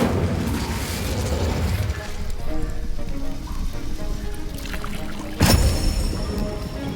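Casting the Incendio fire spell in Hogwarts Legacy gives a crackling, rushing burst that ends in a sharp, loud whoosh-boom near the end, over a steady hissing ambience.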